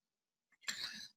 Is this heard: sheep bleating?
no